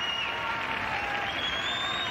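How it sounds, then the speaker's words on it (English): A crowd cheers and applauds at a women's Liga F football match between Sevilla and Real Madrid, forming a steady, distant roar of voices with a few whistles rising above it. "And the crowd is cheering them on."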